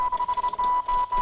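A steady high-pitched control tone with rapid stuttering dropouts, like a timecode signal played from a record, heard alone.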